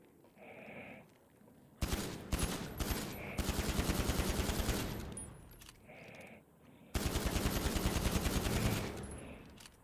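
Long bursts of rapid automatic gunfire in a GTA roleplay server on Vortex RP, two sustained volleys of loud, close shots separated by a short pause with quieter background.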